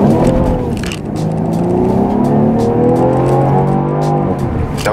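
A Mercedes E coupe with a 2.0 petrol engine revs loudly and close, the pitch rising and sweeping through a sustained drone, with faint clicks above the engine note.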